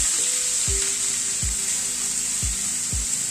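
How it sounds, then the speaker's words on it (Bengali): Finely minced onions fry in hot oil with a bright, constant sizzle, broken by a few soft low knocks as the pan is stirred. "পেঁয়াজটাকে দিয়ে ভেজে নিচ্ছি প্রথমে"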